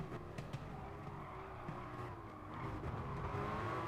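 A midship sports car, a Ferrari F40-type, racing in Gran Turismo Sport, a steady engine drone with faint tire hiss swelling slightly as another car closes in near the end.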